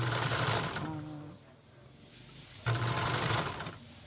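A portable, non-high-speed sewing machine whirs in two short bursts of rapid stitching, with a quiet pause between them and faint talking underneath.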